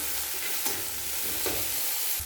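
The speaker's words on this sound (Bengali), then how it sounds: "এরপর তেলে নাড়াচাড়া করে নেব" Chopped onions and garlic frying in oil as they are stirred in a pan, a steady close hiss of sizzling with a couple of soft scrapes of the spoon, no voices.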